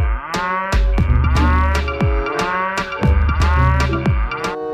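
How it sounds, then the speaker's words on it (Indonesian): A dairy cow in the Jurassic World Evolution 2 video game moos repeatedly, loud and close, in a steady series of deep lowing calls with no talking. "ada sapi perah di sini"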